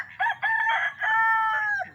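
A rooster crows nearby in a single drawn-out call, rising and holding a bright, strained note before trailing off.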